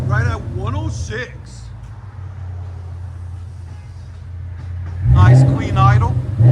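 Steady low rumble of a 2013 Ford Mustang GT 5.0L V8 idling through an X-pipe and Flowmaster 40 Series exhaust, loud and close, with speech over the start and a brief rev near the end.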